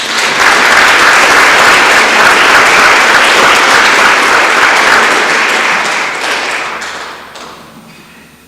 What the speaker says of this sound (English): I think it would be appropriate to give them an applause.